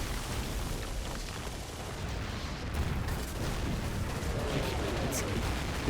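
Dense, continuous battle noise from the Men of War: Assault Squad 1940 invasion of France, with rumbling explosions and crackling small-arms fire layered into a steady wash at low volume.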